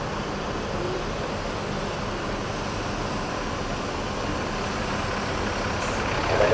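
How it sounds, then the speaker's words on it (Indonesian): A bus engine runs steadily before departure in Jakarta, a loud continuous low rumble that holds even throughout, swelling slightly near the end, with no voices over it. "Bus ANS segera berangkat jam 10 lewat 20 menit, teman-teman, langsung menuju Rana Minang."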